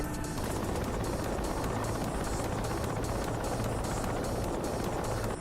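Helicopter rotor and engine noise in the DCS World flight simulator, a dense, steady broadband roar with a faint rhythmic rotor chop, constant and loud throughout, no talk.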